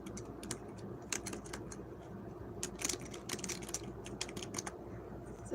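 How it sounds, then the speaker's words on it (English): Rapid, uneven keystrokes on a computer keyboard click away in irregular bursts over a steady room hum, with a few louder taps standing out. "She's typing! She's typing!"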